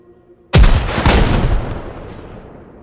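A SMAW rocket launcher fires at a vehicle in the military game Arma Reforger: a single sudden, loud blast that rings and rolls away over about two seconds after a quiet start.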